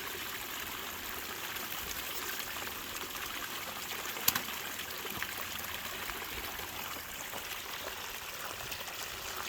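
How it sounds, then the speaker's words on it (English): Water leaking and dripping off a bucket's flared rim onto a lid beside a Gold Cube gold-prospecting setup, a steady close trickle and splatter running without a break, with one brief knock partway through and no talking. "that's just because it's all landing on that lid and slowly spilling off, because it's dripping off of the bucket flare"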